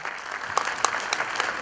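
Audience at a community discussion gathering clapping for the five women who organised the event, a brisk, moderately loud burst of hand claps with a few sharper individual claps, no talking.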